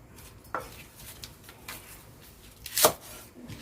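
Two or three sharp knife chops land on a cutting board, cutting crushed shallots, over a low, busy kitchen background, with one louder thunk near the end.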